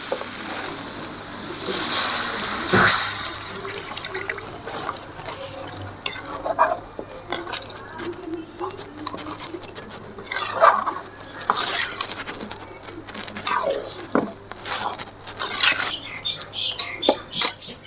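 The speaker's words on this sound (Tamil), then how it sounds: "இப்போ இந்த மட்டன் அவிச்ச தண்ணியை நம்ம இதில் ஊற்றிக்கலாம்" Mutton ghee roast stirred in a pan as boiled mutton water goes in, with scraping spoon strokes against the metal, a gentle sizzle and a loud pour near the start, heard up close without talk.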